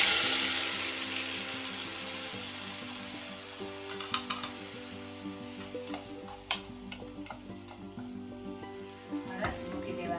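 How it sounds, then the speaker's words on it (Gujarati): Urad dal with green chili sizzling and frying in hot oil, a steady crackling hiss with sharp pops and ticks scattered throughout, close and continuous. "આવી રીતે ધીરેથી અડદ મૂકી દેવાના છે."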